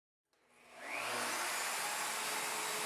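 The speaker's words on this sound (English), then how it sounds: "Place the router back on the jig and route the front tenon." A router mounted on a Leigh FMT Pro mortise and tenon jig, set to cut a front tenon, switches on after silence and spins up to a steady, high, loud whine.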